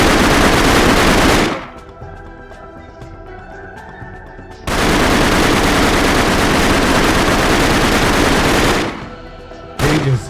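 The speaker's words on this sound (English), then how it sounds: "He's just literally gunning down everybody that comes down here." Video game gunfire comes in long, loud, dense automatic bursts, with a quieter ringing gap and a short final burst.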